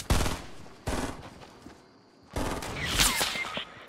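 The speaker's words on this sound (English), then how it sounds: "Yeah, they're taking shots." Bursts of rapid gunfire from opponents in Fortnite, three loud volleys with short gaps between them, harsh and close.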